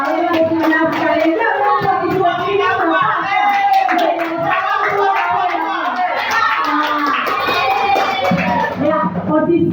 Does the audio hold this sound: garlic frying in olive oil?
no